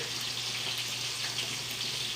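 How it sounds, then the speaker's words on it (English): Heavy cream is poured into a hot pan for a lemon white wine sauce with seared salmon, giving a steady, continuous sizzling hiss with no break and no one talking. "And I'm going to pour it around."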